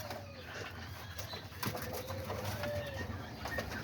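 Homing pigeons cooing in a loft, soft repeated low coos and rustling from several birds nearby, faint and continuous with occasional wing shuffles.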